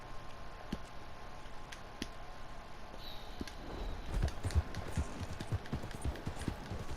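A horse's hooves drum steadily at a gallop in Red Dead Redemption 2, a rapid irregular thumping that grows louder partway through, set against a constant outdoor game ambience with a high insect-like hiss.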